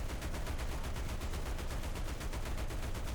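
Rapid, steady automatic fire from a .50 caliber machine gun on a tank in a combat video game, a continuous loud stream of evenly spaced shots with no pauses.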